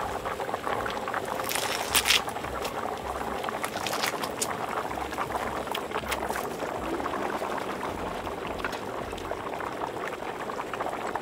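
Mutton pulao liquid with green chillies and coriander leaves boiling hard in a pot, a steady dense bubbling and spattering that holds at an even level throughout, close and alone.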